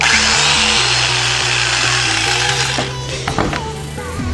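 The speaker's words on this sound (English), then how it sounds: "Got the good old school Black & Decker simple 2-speed jigsaw." An old Black & Decker two-speed jigsaw with a slider switch cuts a subwoofer hole in a speaker box, its loud, buzzing motor and rapid blade chatter running close and steady before easing off with a few clunks near the end.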